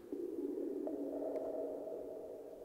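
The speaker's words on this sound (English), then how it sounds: "you still hear that reverb effect" A faint, steady reverb tail from Qtractor audio software hangs on for a few seconds and slowly fades, alone with no voices.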